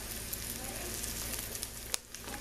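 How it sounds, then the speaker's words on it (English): Eggs crackle and sizzle in a frying pan with butter, a faint steady hiss with small pops heard close up and without talk. "just a couple of eggs frying on the pan there"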